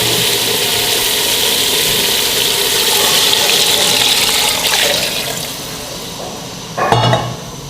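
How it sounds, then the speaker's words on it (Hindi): Water is poured into a pan of well-browned beef for a beef dish: a loud, close, steady splashing rush that eases off, then a short sharp burst near the end. "अब मैं पानी डालती हूँ आपके सामने।"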